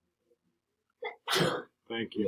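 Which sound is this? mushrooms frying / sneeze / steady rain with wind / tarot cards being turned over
sneeze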